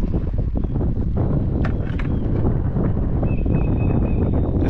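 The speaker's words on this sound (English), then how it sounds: "This wind is terrible." Wind buffets the microphone outdoors while crappie fishing with a slip cork, a continuous loud rushing rumble with faint brief knocks mixed in.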